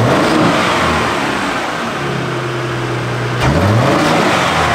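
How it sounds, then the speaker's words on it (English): A 2023 Ford Raptor truck engine with a COBB Redline aftermarket intake revs up loudly, holds, then drops and climbs again, a close continuous roar with a rising pitch near the end. "I hear a little bit of intake noise."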